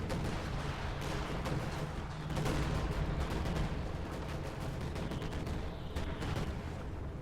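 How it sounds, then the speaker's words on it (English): Dense battlefield barrage from Company of Heroes 2, with airstrikes and bombing rumbling continuously beneath rapid overlapping gunfire cracks, loud and sustained without pause. "Just a lot of airstrikes. A lot of airstrikes."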